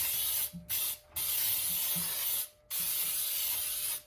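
Several long hissing sprays of cooking spray into a baking pan for a cake, close and loud, broken by brief pauses between bursts.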